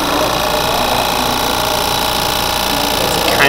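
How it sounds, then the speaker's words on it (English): A vacuum pump runs continuously during a planetarium demonstration, a loud, dense, steady mechanical buzz and rattle that holds without pause throughout. "That'll turn on our vacuum pump."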